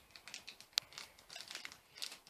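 A plastic Shopkins blind bag is opened with faint, close crinkling and rustling, in a few soft irregular bursts and one sharper tearing crackle, with no talk.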